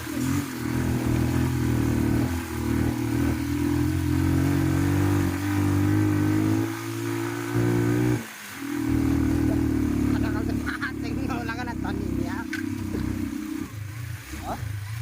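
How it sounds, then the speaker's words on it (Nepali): A motorcycle approaching on an uphill road drones steadily nearby, its low hum shifting in pitch as it revs, with a voice talking over it at times. "अब उता आउँदैछ एउटा बाइक"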